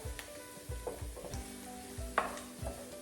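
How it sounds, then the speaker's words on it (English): Garlic sautéing in a pan, a light steady sizzle with a few soft stirring scrapes and clinks recurring about every half second, no talk. "You don't have to saute the garlic very long because you don't want it to burn."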